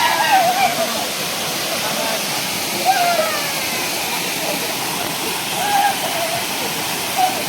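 Pradhan Pat waterfall near Deogarh pours with a steady broadband rush that fills the whole clip, loud and continuous, with no voices over it.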